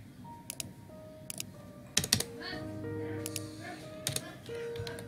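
Bursts of quick keystrokes on a computer keyboard while coding in C#, close and crisp with clusters of clicks and short pauses, over a soft background hum.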